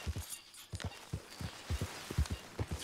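Horse hooves clip-clop in a steady walking rhythm while riding in the video game Red Dead Redemption 2, the close, dull thuds repeating about twice a second over faint ambient background.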